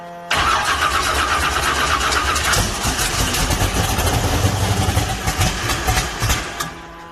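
An engine cranks briefly and catches at once on a Tornado fuel injection setup after a shot of extra fuel, then runs loud and steady with a rough, throbbing idle until it cuts off.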